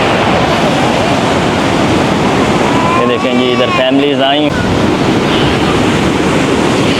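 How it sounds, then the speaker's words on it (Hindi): Sea waves roll and hiss steadily at Hawks Bay beach in Karachi, a loud continuous surf wash with wind buffeting the microphone, while someone briefly talks over it. "तो ये है समंदर, ये है हॉक्सवे।"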